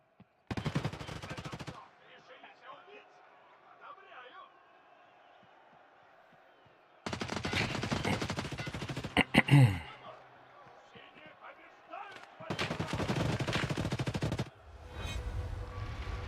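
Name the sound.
gunfire from a video game gun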